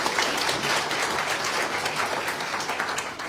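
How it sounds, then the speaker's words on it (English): Steady applause from a pageant audience for the judges at a fashion pre-pageant interview event, a dense even wash of many hands clapping throughout. "Please give them a round of applause"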